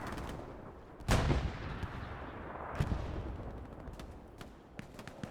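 Artillery in the World War II shooter Hell Let Loose, on the Omaha Beach map, booms once loudly and then again more faintly, with scattered gunfire and battlefield rumble continuing underneath.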